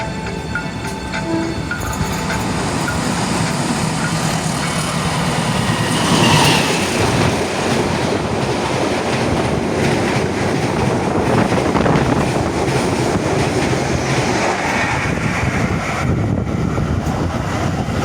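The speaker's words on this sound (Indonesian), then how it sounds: "persiapan melintas langsung kereta api Senja Utama Jogja dari Yogyakarta tujuan Pasar Senen" A passenger train rumbles steadily past at close range through an Indonesian railway station at night, a continuous heavy roar of wheels and cars on rails with no voices.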